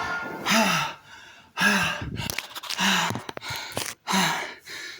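Heavy, labored breathing after a set of push-ups: deep gasping inhales alternate with rough exhales in an uneven rhythm, loud and close, with no speech.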